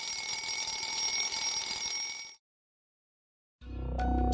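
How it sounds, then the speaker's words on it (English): Video game timer alarm from Grow a Garden rings as a loud, steady electronic beeping tone. It cuts off into about a second of silence before another tonal sound rises. "after that, my timer ended"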